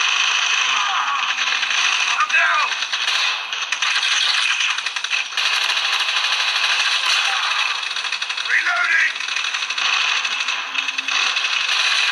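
A gun reloads in a mobile video game played on a Samsung Galaxy S20 FE, with small metallic clicks and ratcheting mechanism sounds over a constant dense game soundscape, while in-game voices call out now and then.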